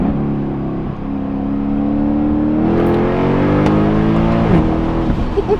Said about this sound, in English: I love the downshift pops and burbles.